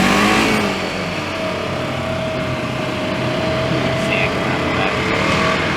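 Polaris Ranger 900 UTV with upgraded reverse chain and 4-inch portal gear hubs on its first test ride, a steady engine drone with a sustained whine, close and continuous throughout.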